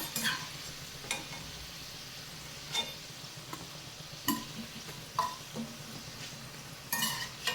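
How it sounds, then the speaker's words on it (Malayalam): Milk cake pieces fry quietly in hot oil, a soft steady sizzle broken by occasional sharp clinks and scrapes of a ladle against the pan as pieces are turned and lifted out. "ഇതും കൂടെ വറുത്ത് കോരിയെടുക്കാം."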